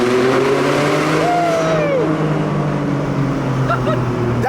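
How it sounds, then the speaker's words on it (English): A hypercar's engine revs hard in a tunnel, a loud sustained roar whose pitch swoops up and back down before settling into a steady drone, with no talk. "Maybe I'll do a few revs."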